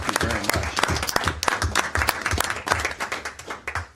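Council chamber applause for staff: a loose round of individual hand claps from a modest group, crisp and close, with a fairly even rhythm throughout and no talk over it.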